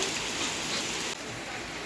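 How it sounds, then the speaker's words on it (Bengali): Steady, dense hiss of rain pouring down without pause, loud and close, with no voices. "পুরো জোরে বৃষ্টি পড়ছে"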